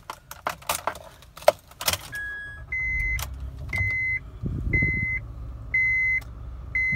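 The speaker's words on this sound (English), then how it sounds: "So let's start it up." Keys jangle loudly near an Acura car as the engine is started, followed by repeated chime beeps and the low hum of the vehicle running, no talk.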